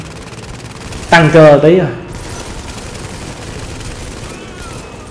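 Automatic gunfire sprays in the PS4 shooter Tom Clancy's The Division, a steady crackling burst running under and after a brief spoken comment.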